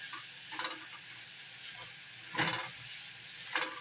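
Bread bun toasting in a dry skillet, a faint steady sizzle broken by a few soft scraping bursts, quiet and close.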